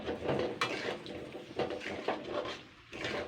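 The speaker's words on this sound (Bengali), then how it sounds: "এইভাবে নাড়াচাড়া করে যেতে হবে।" Mango pickle being stirred in a pan, a continuous run of scraping and clinking from the spoon against the metal, moderately close and fairly quiet with no voice.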